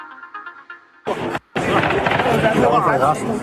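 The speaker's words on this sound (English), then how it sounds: "Gunshots ringing out at a busy tourist site near Mexico City." Gunshots ring out at a busy tourist site near Mexico City, loud sharp cracks followed by a dense, sustained burst of commotion.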